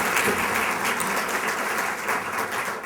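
Sustained applause from a lecture crowd at the UAB stage greeting the speaker, a dense, even roar of many hands clapping that tapers slightly at the end.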